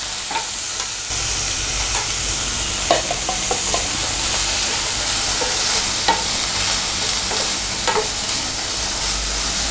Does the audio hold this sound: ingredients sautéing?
yes